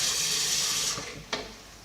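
Water poured into a blender over herbs, onions, seasoning, scotch bonnet and garlic for egusi soup, a steady close hissing splash that tapers off after about a second, followed by a brief clink.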